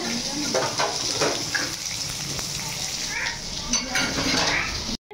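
Dishes and utensils clink and clatter steadily with running water, a busy scrubbing-and-rinsing sound that fills the whole stretch before cutting off at the end.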